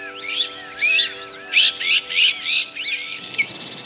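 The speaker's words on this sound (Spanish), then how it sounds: "El rabilargo, cuervo de capirote negro y alas azules, se localiza en dos zonas concretas, España y Portugal" Azure-winged magpie calling, a series of harsh, raspy chirping notes in quick bursts, fairly close and clear, with a steady tonal hum underneath.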